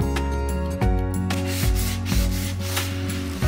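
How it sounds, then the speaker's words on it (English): Dried spackle on a wall being sanded smooth: close, rhythmic back-and-forth scraping strokes in a steady pattern over a low hum, with no talking. "I sanded it down to create a smooth, level surface"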